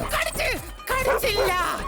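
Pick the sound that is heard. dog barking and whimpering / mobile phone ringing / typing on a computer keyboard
dog barking and whimpering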